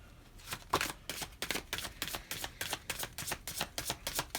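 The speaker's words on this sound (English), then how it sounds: "I'm just going to give this a quick clear shuffle for one more card" Tarot cards riffle-shuffled close up in a steady series of crisp, rapid flutters, repeating about every third of a second for several seconds, with no talking.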